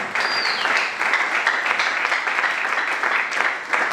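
A church congregation applauds and acclaims the Lord, a dense, continuous wave of clapping from many hands with faint voices mixed in.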